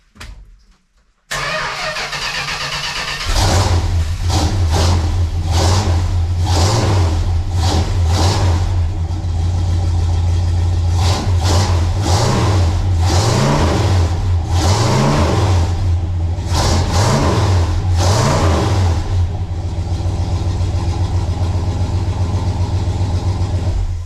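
A 1968 Plymouth Road Runner 440 V8 with a new exhaust fires up after a brief crank and runs loud and near, settling into a lumpy idle broken by several sharp revs, with no talk over it.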